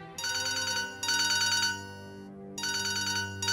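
Mobile phone ringtone playing loud and close: a bright electronic melody in repeating bursts, with a steady low tone underneath and short gaps between phrases, no voices.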